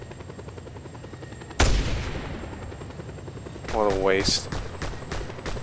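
Helicopter in Just Cause 2, a loud blast followed by steady rotor thrum and sputtering gunfire, with someone talking over part of it.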